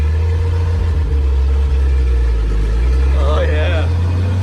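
A 70-year-old farm truck's engine runs steadily while driving, a loud, low, droning rumble throughout, with a voice speaking briefly over it near the end.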